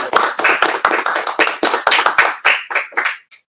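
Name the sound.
online meeting applause for salutatorians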